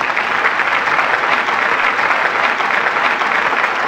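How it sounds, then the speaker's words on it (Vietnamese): Steady, dense applause from a large television game show studio audience, continuous and loud throughout with no voices standing out. "Hãy dành một tràng pháo tay"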